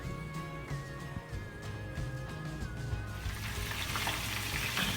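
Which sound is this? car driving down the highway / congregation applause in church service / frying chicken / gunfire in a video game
frying chicken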